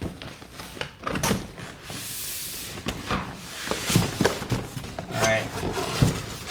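A PS5 console's cardboard retail box is opened with scraping, sliding and rustling handling noises, some sharp bumps and a brief hiss, under an occasional speaking voice.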